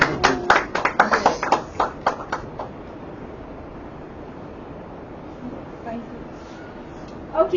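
A short burst of audience clapping at a Toastmasters club meeting, a quick cluster of claps that dies away into quiet room tone, with a brief faint sound near the end.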